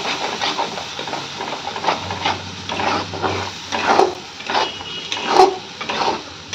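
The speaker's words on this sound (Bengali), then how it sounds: "ভালো করে মশলাটাকে কষিয়ে নেব।" Onion, ginger and garlic masala paste fries in a pan while a spoon stirs and scrapes it, giving a steady sizzle broken by rhythmic scraping strokes and a few clinks against the pan.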